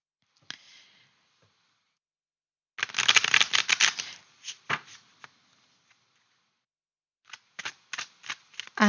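Tarot cards are shuffled close by in quick papery riffles and flutters, a loud burst in the middle and more short bursts near the end, with quiet gaps between and no talking.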